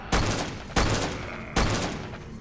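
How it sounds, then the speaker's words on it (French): Pump shotgun firing in the video game Warframe, three loud booming blasts spaced evenly about a second apart, each decaying into a short rumbling tail. "on va jouer au fusil à pompe un peu"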